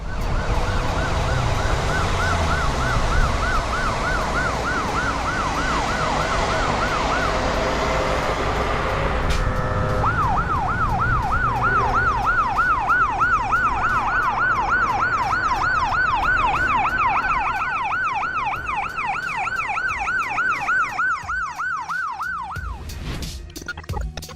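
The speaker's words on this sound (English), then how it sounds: "the ambulance has to move in the lane with the rest of the cars, even though the siren is on" Ambulance siren moving through road traffic in Australia: a loud, continuous wailing siren cycling up and down steadily for the whole span, over a bed of traffic rumble, with a brief shift in its pattern midway.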